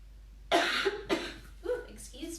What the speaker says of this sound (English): I was trying to hold that cough in, that didn't work out.